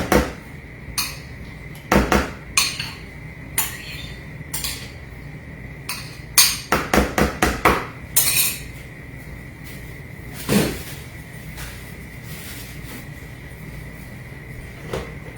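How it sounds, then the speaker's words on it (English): A spoon scrapes and knocks around a mixing bowl of banana nut bread batter in a home kitchen, making sharp, irregular clinks and scrapes in bursts, with a quick cluster of strikes in the middle. "Scrape the bowl, okay?"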